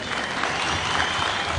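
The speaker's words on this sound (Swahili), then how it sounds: "mpigeni makofi" A ceremony audience applauds at the conferment of city status on Eldoret, a dense, continuous wash of clapping from a large crowd that holds steady throughout without voices above it.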